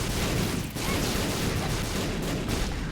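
Rapid, dense bursts of explosions in a video game, loud and continuous with a crackling, gunfire-like texture and one short dip partway through.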